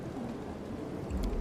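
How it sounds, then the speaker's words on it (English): A lightning ball spell in a fantasy video game sounds as a rumbling, crackling wash, like rain and thunder, swelling into a deeper boom near the end. "A lightning ball."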